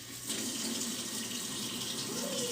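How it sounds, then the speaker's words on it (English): Tap water runs steadily into a sink while tie-dye shirts are rinsed under it, a continuous close hiss and splash with a faint shift in tone near the end. "come join me as I rinse out some tie-dyes tonight"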